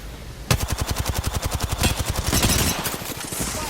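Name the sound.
gunfire in a video game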